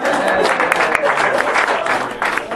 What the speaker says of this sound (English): Keep clapping for this guy.